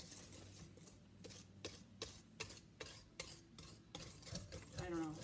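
Banana snack cake batter being mixed in a bowl, a rhythmic series of wet stirring strokes roughly every half second, fairly close and quiet, ending with a brief clatter of the utensil.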